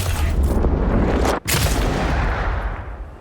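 Pistol shots in the video game Avowed, loud booming reports that merge into a dense, continuous blast with one brief gap.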